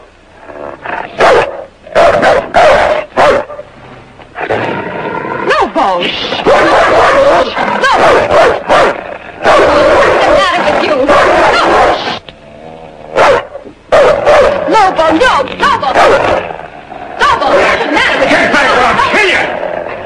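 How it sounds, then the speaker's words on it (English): Dog in a 1948 western film barking repeatedly in loud bursts and whimpering between them, with people shouting and talking over and around the noise. "It's a dog. Found him out in the woods."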